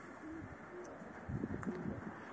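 Pigeons coo softly in cold winter weather, low murmuring calls rising and falling over a steady background hum, with a couple of faint chirps.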